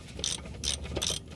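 Ratchet wrench clicking on a brake wheel cylinder bolt, sharp close metallic ratcheting in three quick bursts at a steady back-and-forth rhythm, with no talking.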